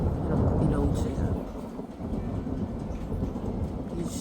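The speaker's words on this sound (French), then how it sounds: "C'est pour ça que l'éclair il tape au-dessus." Thunder from a violent thunderstorm overhead in Pfastatt rolls as a deep, continuous rumble that swells and fades, mixed with a dense wash of steady rain noise.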